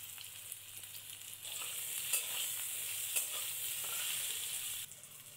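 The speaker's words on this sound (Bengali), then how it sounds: "এবার এই তেলের মধ্যে দিয়ে দেব আলুগুলোকে ভালো করে ভেজে নেব" Potatoes fry in hot oil in a pan, sending out a soft, steady sizzle with occasional stirring scrapes and clicks, close but fairly quiet, and no one talks.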